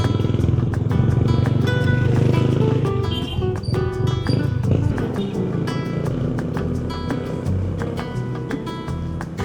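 A motorcycle ride on Bohol island in the Philippines, with a steady low engine drone and rumble that continues close by throughout, over wind and road noise and with no talk.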